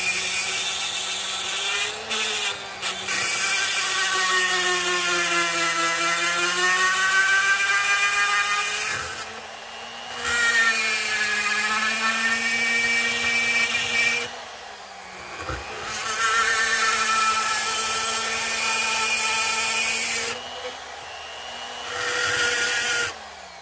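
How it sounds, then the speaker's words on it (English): A Harbor Freight variable speed multi-tool runs close and loud in long whining bursts, its pitch rising and falling as the speed changes, with several brief stops between runs. "a variable speed multi-tool from Harbor Freight"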